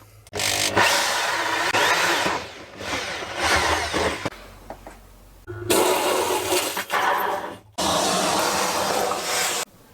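A power drill with a hole saw bores through a boat's wooden bulkhead in long loud bursts, whining and grinding, with short pauses between runs and a final steady stretch.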